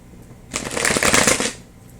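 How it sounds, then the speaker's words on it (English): A tarot card deck riffle-shuffled once, a dense, close fluttering rush of cards lasting about a second, with no talking. "Just want to split this deck again, make sure I get it shuffled up really well."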